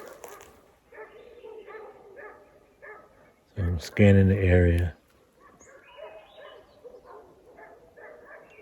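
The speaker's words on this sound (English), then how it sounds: "But the dogs are going crazy." Dogs bark in a loud, excited burst of several close barks in an Alaskan wilderness setting, with a person talking quietly before and after.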